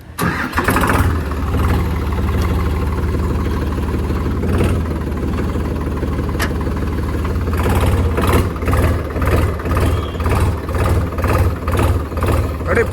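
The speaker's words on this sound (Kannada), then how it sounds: "ಟ್ರ್ಯಾಕ್ಟರ್ನ ಓಡಿಸಿ ನೋಡೋಣ. ನ್ಯೂಟ್ರಲ್ ಮಾಡ್ಕೋಬೇಕು." A Sonalika DI 35 RX Sikander 41 hp tractor diesel engine cranking and starting up, then settling into a loud, close, rhythmic chugging with regular pulses.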